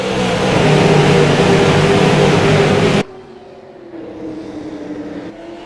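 Super late model race cars roar together at a race start at Stafford, a loud, dense engine drone for three seconds that drops abruptly to a quieter, steady engine hum.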